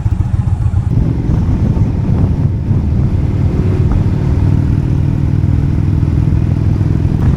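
Harley-Davidson and Indian motorcycles cruising through the Yarramalong area on the Central Coast of New South Wales, a steady loud engine drone with wind buffeting the microphone throughout.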